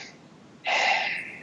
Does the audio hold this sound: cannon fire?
no